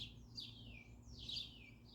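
Small birds, including a sparrow, chirp and sing around a backyard bird feeder, with repeated high sweeping calls rising and falling over a low steady background hum, moderately near.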